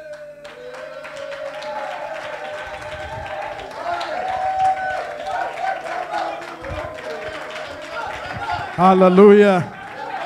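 Church congregation claps and cheers as a crowd amid a sermon; voices of the preacher and people talk over the applause, rising to a louder burst near the end.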